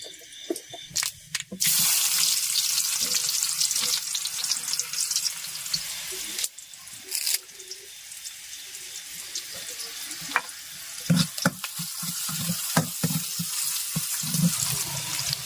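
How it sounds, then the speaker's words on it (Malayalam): Mustard seeds fry in hot oil in a small frying pan, giving a busy sizzle with scattered sharp pops and crackles close by, broken by brief clinks and stirring noises. "അങ്ങനെ നമ്മുടെ കടുക് വറുത്ത് നന്നായിട്ട് മൂത്തിട്ടുണ്ട്"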